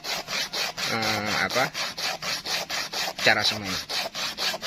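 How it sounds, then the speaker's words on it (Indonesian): Parica (Brazilian sengon) seeds rubbed on sandpaper before sowing, a steady rhythmic back-and-forth scraping with even strokes, close and loud, while someone speaks over it. "Nah, kita amplas dulu."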